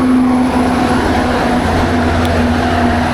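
Heavy trucks roar past close by on a road in Turkey, a loud, steady engine drone and rumble with a lower growl building midway, heard from a bicycle with no talk.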